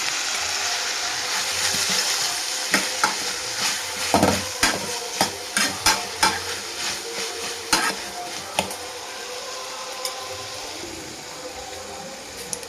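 Tomatoes sizzling in a pan for a chickpea-flour curry, a constant hiss with a run of rhythmic stirring clacks in the middle that thin out toward the end.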